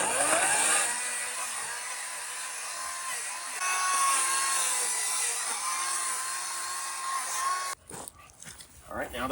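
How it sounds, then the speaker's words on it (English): Ryobi 40V 14-inch electric chainsaw cutting through a Christmas tree, a steady high whine that runs loud and continuous before cutting off near the end, with a person talking over it. "Today we're using our 40 volt, 14-inch Ryobi chainsaw."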